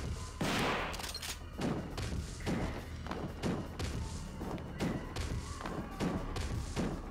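Shotgun and rocket launcher fire in the video game Devil May Cry 2, a steady run of heavy booming shots and thuds at a loose, rapid rhythm over a dense background of game noise.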